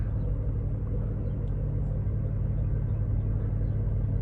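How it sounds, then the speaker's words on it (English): A Corvette Z06 in track mode with 13,000 miles idles just after starting up in a garage, a steady deep low rumble that holds constant and unrevved throughout, with no talk over it. "I won't rev it too hard, just getting started up"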